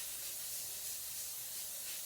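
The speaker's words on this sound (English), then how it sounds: "Just the more you spray it, the better." A can of cooking spray lets out a steady, soft hiss close to the mic for about two seconds, with no speech.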